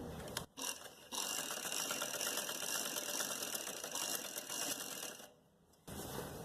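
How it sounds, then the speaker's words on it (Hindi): A sewing machine runs steadily while stitching a button placket neckline, with a continuous mechanical whir and rapid needle ticking. It stops briefly near the start and again near the end before resuming. "एक टांका लेने के बाद हम यहाँ से अपनी सिलाई को दोबारा से कंटिन्यू करेंगे।"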